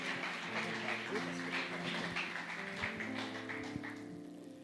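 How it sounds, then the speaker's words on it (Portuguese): Congregation clapping in praise during an evangelical church service, a dense steady patter of many hands filling the room throughout, fairly loud and continuous without a break. "Dá uma salva de palmas ao Senhor pela vida desse pastor querido"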